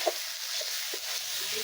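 Taro stolons fry with spices, turmeric and salt in a pan, giving a soft, steady sizzle with a few faint stirring clinks and no talk.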